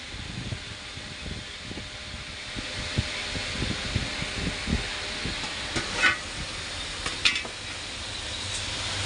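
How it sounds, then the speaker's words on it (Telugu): Capsicum pieces frying in a pan while capsicum curry cooks: a steady sizzle runs throughout, with light scraping and stirring taps and a couple of faint clinks. "చూసారుగా క్యాప్సికమ్ ముక్కలు అయితే వేసాను."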